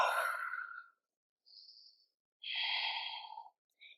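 Deep yoga breaths during a slow flow session on a vibration plate: a long airy exhale, a short soft inhale, then another sustained breath, close and quiet with no talking.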